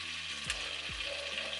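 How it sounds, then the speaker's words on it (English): Ground masala spices for butter chicken fry in a pan with a steady, close sizzle, and a few soft stirring scrapes come through. No one speaks. "Stir this all together. Because you want to fry these spices, guys."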